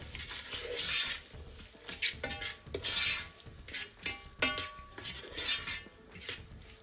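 A spoon stirs spring onions, sweet corn and vegetable seasoning in a pan, producing repeated close metallic scrapes and light clanks in an uneven rhythm, with no talking.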